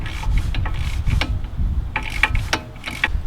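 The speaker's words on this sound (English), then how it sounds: "Make sure it ratchets." A ratchet wrench clicks in quick, uneven bursts while a seized car coilover is adjusted, the sharp ticks close and clear over a low rumbling background.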